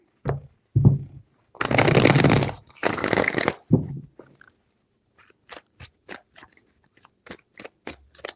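Tarot cards shuffled in two long riffling bursts, followed by a run of sharp, evenly spaced snaps and taps, close and fairly quiet with no talking.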